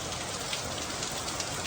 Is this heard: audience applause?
no